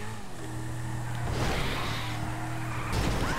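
A car in GTA 5 driving roughly, engine droning steadily while tires squeal and skid in a couple of loud swells, close and continuous without talk.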